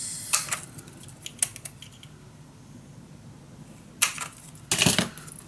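Scissors snipping through scrapbook paper for a summer-themed mini album, heard as a few short, crisp cuts in separate bursts, close and fairly quiet with pauses between them.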